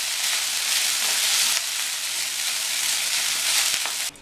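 Loud, steady sizzling from a hot pan with soft scraping as cooked rice is stirred in for lemon rice, cutting off abruptly at the end.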